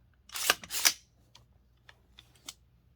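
A few crisp mechanical clicks from an AR-15 trigger fitted with an Aero Precision Breach trigger, two louder close snaps followed by several fainter light clicks in a quiet room.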